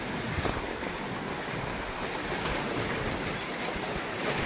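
Ocean surf rolls steadily onto an island shore, heard as a continuous loud wash of waves mixed with gusting wind buffeting the microphone, with no voices.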